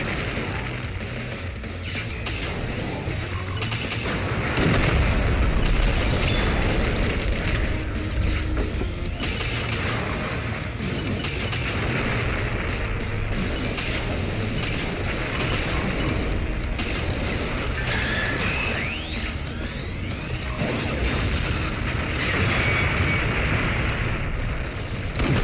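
Dense action-game soundscape from Liberation Maiden's Tokyo stage, with enemy missiles whooshing and repeated explosions booming over a continuous loud mechanical rumble for the whole stretch, with no clear speech.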